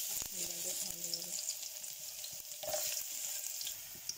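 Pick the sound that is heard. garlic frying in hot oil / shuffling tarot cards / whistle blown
garlic frying in hot oil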